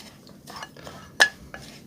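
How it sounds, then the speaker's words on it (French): Spoon stirring two spoonfuls of paprika and cumin seeds together in a dish for chili con carne, a few faint scraping strokes followed by one sharper clink and a softer tap, with no talking. "Je mélange."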